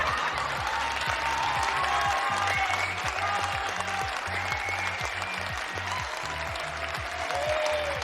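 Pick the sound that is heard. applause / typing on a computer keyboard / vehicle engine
applause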